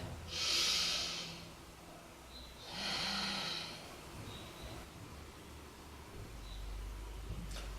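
Slow, deep breaths in and out during a beginner yoga session: two long, airy breaths close to the listener, separated by quiet, with no talking.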